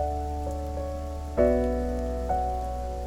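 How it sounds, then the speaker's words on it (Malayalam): Heavy rain falls outside as a steady, even hiss, with sustained musical tones ringing over it and a sharper swell partway through. "പുറത്ത് നല്ല മഴയല്ലേ."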